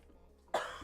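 A single short cough from a sick person, close to the microphone, bursting after a quiet moment of faint room noise.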